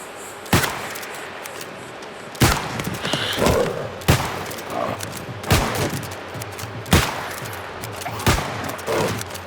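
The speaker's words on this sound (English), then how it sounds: "Shooting a puma in the face." Gunshots ring out while a puma is hunted in New World: about seven loud, sharp reports at irregular intervals, with game ambience and small rustles between them.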